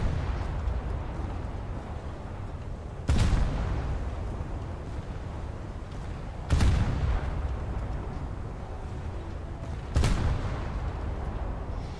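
Three heavy booming salvos from US 5-inch naval guns aboard a cruiser in a naval combat game, spaced evenly several seconds apart, each a loud sharp blast that rumbles away over steady ambient sea and engine noise.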